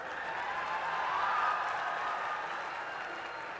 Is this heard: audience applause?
yes